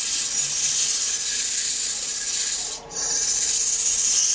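A strip of sandpaper rasps steadily across a handle under light two-handed pressure, a continuous close hiss with one brief pause in the stroke.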